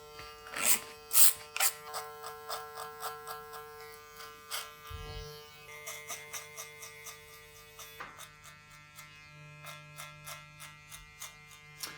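Electric clippers trim a man's hair and beard at the sides to shape it, giving a steady close buzz broken by bursts of clicking strokes, with no speech.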